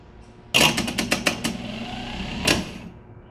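A starter cranks a vehicle engine after its solenoid is jumped from the constant 12-volt terminal with a screwdriver, giving a quick burst of rapid cranking pulses that catches briefly, then a second surge near the end.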